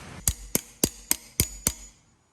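Six sharp metal hammer taps, evenly spaced about every quarter second, strike a socket to drive a bearing out during a turbo engine reassembly on a Foxbody Mustang; close and loud, with no talk.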